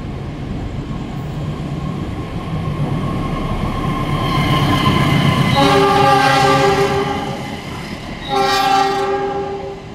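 The Progo train rumbles steadily through a busy Jakarta railway station at night, then sounds its horn in two long, loud blasts, the second shorter, over continuous rolling noise.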